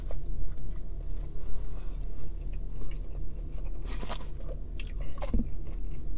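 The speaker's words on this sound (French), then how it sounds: "Ah, j'ai eu du bacon croustillant." Crispy bacon in a Wendy's Baconator crunches under close bites and chewing, with a few sharper crackles over a low, steady background hum.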